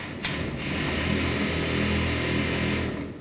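A ratchet with a 21mm socket works a nut loose on the front lower rearward control arm of a 2007–2013 BMW 328i, giving a steady run of close, quiet clicking for a few seconds.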